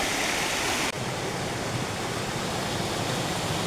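A rainforest river rushes steadily near Killarney, Queensland, a dense, continuous wash of flowing water heard up close with no voices, a brief dip in level early on before the steady roar resumes.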